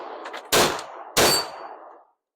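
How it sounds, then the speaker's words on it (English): Two loud, sharp gunshots about half a second apart ring out at an outdoor shooting range in freezing cold weather, fired at a steel plate rack, each with a brief decaying echo. "I'm shooting like garbage today"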